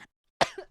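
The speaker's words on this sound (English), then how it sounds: "I had a cough, a really bad cough." A single sharp cough, close and fairly loud, after a moment of silence.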